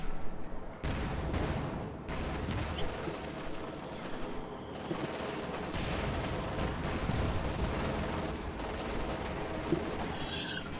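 Machine gun fire in the video game Company of Heroes 2 rattles in dense, continuous bursts mixed with heavier battlefield booms, loud and sustained throughout.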